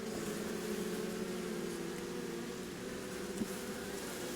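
Bees and drones buzz steadily in an opened beehive, one of several weak colonies being merged into a single strong hive, a continuous dense drone close by with no voices.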